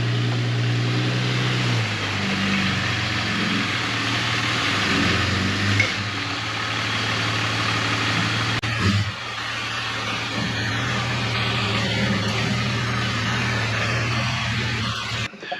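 A Suburban in 4-wheel drive creeping into a garage, its engine droning loud and close throughout, shifting pitch around the middle as it climbs, with faint clunks.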